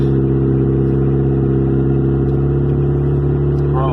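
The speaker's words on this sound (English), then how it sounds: "It's just the exhaust it's so loud" A loud turbocharged 400-horsepower Toyota Celica engine idling and droning steadily with a deep, rumbling exhaust tone, close and continuous, slight rev near the end.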